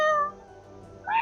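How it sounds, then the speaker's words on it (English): Domestic cat meowing in two short, fairly loud calls, one at the start and another near the end, with a quiet pause between and no talking. "Yeah, that's the cat."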